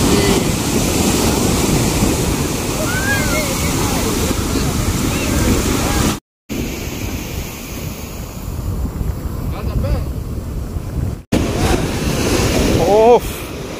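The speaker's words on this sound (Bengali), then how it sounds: "শুধু ঢেউয়ের পর ঢেউ, ঢেউয়ের পর ঢেউ" Sea waves roll in at Puri beach in a steady, loud roar of surf, while strong wind buffets the microphone throughout. The sound cuts out briefly twice.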